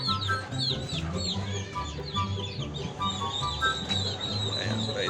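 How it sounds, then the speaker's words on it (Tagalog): Many chickens cluck and chatter continuously on a small rural farm in Montalban, with hens near their egg-laying nests and some higher calls over a steady, close-up flock murmur. "Daming mga manok."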